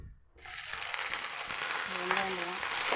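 Dense crackling and sizzling of fennel seeds frying in hot oil, steady and close, with no voices.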